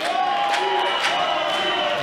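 Indoor wrestling crowd at an independent WPW show roaring and cheering in a steady sustained wash, loud and continuous with a commentator's voice under it.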